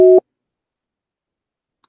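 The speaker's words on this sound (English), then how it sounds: "Line is busy." A telephone busy signal gives one short, loud, steady electronic tone near the start, then silence.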